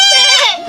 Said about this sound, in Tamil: ஆடு பிடிச்சிருக்கியா?